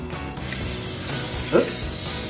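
An aerosol spray can hisses in a short, steady burst while kids make breakfast in a kitchen. The close spray starts abruptly and holds, with a faint clunk partway through.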